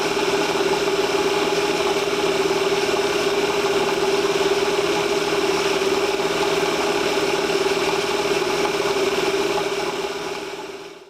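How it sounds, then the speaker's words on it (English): An engine runs at a loud, steady idle, with an even drone and faint vibration close to the mic throughout before cutting off at the end. "Start the engines, and we're off and running."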